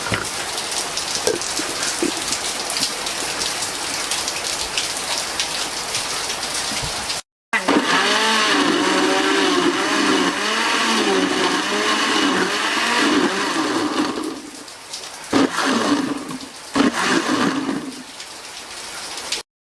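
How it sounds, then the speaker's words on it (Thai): A blender whirs loudly as it purees pineapple with water for a detox drink. After a brief gap the motor note wavers, then cuts out and restarts. "แล้วใส่น้ำนะคะ ประมาณท่วมนะ แล้วปั่นกันค่ะ"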